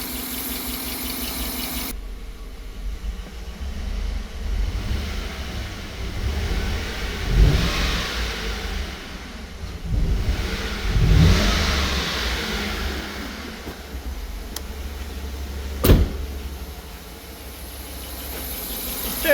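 2009 Chevy Tahoe with a misfire and low compression idling and being revved, a low uneven engine drone that swells several times, with a faint belt squeal in the mix, close and steady, with no talking.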